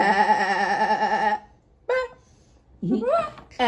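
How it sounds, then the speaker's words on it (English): A sheep bleats: a long, wavering bleat, then a short one, and after a pause another rising bleat, each close and clear with silence between. "Next we have a sheep."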